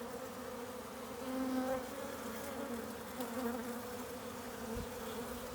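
Honeybees buzz steadily around their queen at a hive box holding a single frame of built-out comb, a soft close continuous drone with slight swells and no talk.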